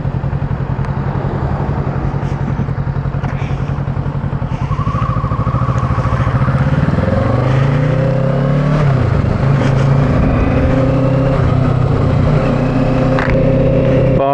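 An old motorcycle converted to scrambler style is ridden, its engine note loud and steady with clear rises and falls in pitch as the rider shifts and accelerates, wind roar underneath throughout.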